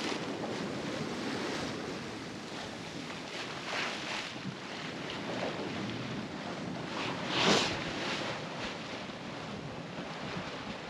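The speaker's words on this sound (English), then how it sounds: "Still watching the waves." Ocean waves around a sailboat far out at sea make a steady rush of surf and wind noise, with one louder wash of water partway through and no voices.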